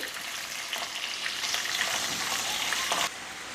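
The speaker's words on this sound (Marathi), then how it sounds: "कांदा 2 मिनिटं मी परतून घेणार आहे।" Chopped onion sautéing in a pan for veg pulao, a soft, even frying hiss with faint stirring that builds slightly, then cuts off near the end.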